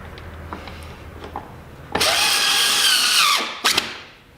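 A power drill drives bolts back into a 2000 Jeep Cherokee Sport during a heater core replacement, a sharp whirring burst of about a second and a half, a short pause, then a quick final blip, close and loud.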